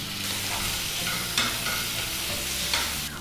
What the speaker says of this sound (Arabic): رح نبدأ بتقلاية البصلة